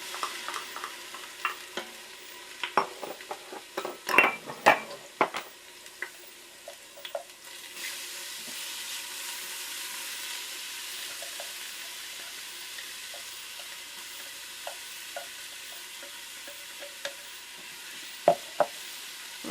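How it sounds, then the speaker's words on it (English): Garlic and half an onion sautéing in oil in an Instant Pot, a soft steady sizzle under a burst of sharp clacks and stirring knocks early on, then sparse clicks. "I just want to saute that onion a little bit to make it a little sweeter"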